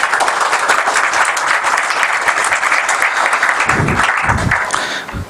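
Audience applause at a tech talk event, dense steady clapping from a large crowd that holds loud throughout and starts to fade near the end, with a few low thumps toward the close.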